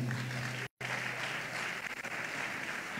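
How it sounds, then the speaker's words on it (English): Scattered applause from a crowd at a lively live event, steady clapping with a brief dropout near the start and a low hum underneath. "I beg, mona clap for boss man again"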